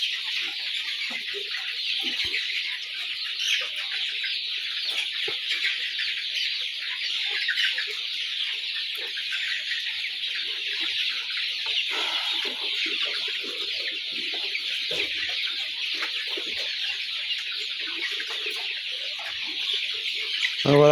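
A flock of 40-day-old brown cock chickens clucks continuously in a poultry shed, a dense, even chorus of overlapping calls.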